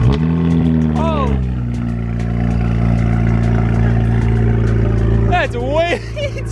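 A BMW 335 car engine revs loudly close by, its pitch rising and falling in sharp sweeps over a steady, heavy idle drone.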